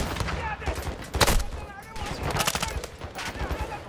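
Automatic and rapid gunfire in Call of Duty Modern Warfare II during the Ghost intro mission, bursts of shots mixed with game effects and a voice speaking over them.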